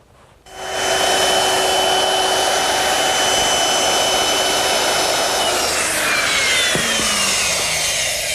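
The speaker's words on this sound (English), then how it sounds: "I'm using a 1/2-inch radius round over bit just to ease the edges of the shelf" A router fitted with a 1/2-inch radius round-over bit eases the edges of a wooden shelf for an umbrella stand, spinning up abruptly into a loud, sustained high whine that dips in pitch briefly near the end as it bites the wood.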